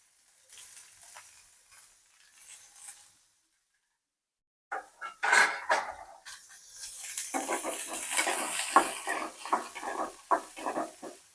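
Onions fry and sizzle in a pan for eggplant palya, with faint clinks at first, then a loud, steady hissing sizzle as they are stirred, scraped and turned.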